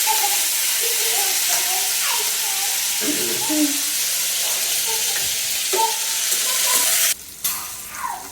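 Prawns frying with turmeric and chili in a pan, a constant loud hiss and sizzle with stirring running throughout, partly under someone talking, with a sharp clatter near the end.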